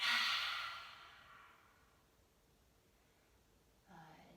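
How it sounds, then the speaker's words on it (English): A deep exhale during a children's yoga session, a breathy rush loudest at the start and fading over about two seconds, followed by a quieter intake of breath near the end. "Breathe all the way in. And breathe out."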